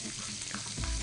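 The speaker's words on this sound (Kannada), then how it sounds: "ಓಕೆ, ಒಗ್ಗರಣೆ ಮಾಡ್ತಾ ಇದ್ದೀರಾ?" Garlic and onion tempering in hot oil with turmeric, a dense close sizzle that holds steady for about a second, with a low thump near the end.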